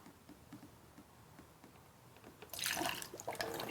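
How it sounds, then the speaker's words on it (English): Coolant poured into the reservoir of an Empulse electric motorcycle, a faint trickle that turns into a louder gurgling stream halfway through, close by and with no talking. "we're just going to add coolant until I guess it spills out of the cap or something"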